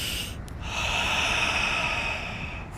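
One long, deep breath sounds as a steady airy hiss close to the microphone, lasting a few seconds with no talking.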